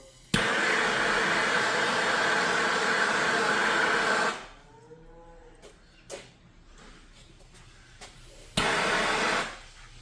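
A heat gun blows loudly and steadily for about four seconds while heat-shrink tubing is shrunk onto a wire, then cuts off, leaving faint handling clicks before a second short blast near the end.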